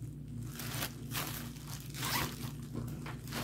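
Zipper on the back-wall pocket of a Steve Madden handbag being drawn open in several scratchy rasping pulls, close and quiet.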